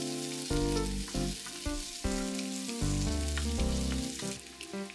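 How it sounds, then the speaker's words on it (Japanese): Garlic and sausages stir-fry in a pan, giving a close, continuous sizzle. Louder stretches of frying come and go as the pan is worked, and background music plays along with no talk. "ニンニク、ウインナーを入れて炒めて、ウインナーから出る油を全体に絡めていきます。"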